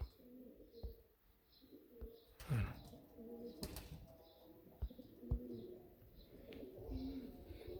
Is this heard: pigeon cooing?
yes